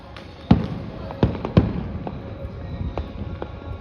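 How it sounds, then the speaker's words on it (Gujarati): Firecrackers go off outdoors at a Janmashtami celebration procession in Gondal, several sharp pops at irregular intervals over a steady crowd murmur. "કન્ટિન્યુ ચાલુ જો પટાક્યા ફોડવાનું"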